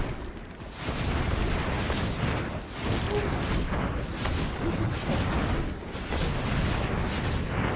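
A booming explosion effect plays in a Magic: The Gathering match, a dense, rumbling roar that swells and holds for several seconds with repeated heavy surges.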